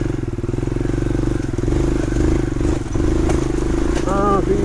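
A motorcycle engine runs steadily and loudly up close on a rural trail in North Luzon, with a low continuous drone and some clatter, as someone talks over it.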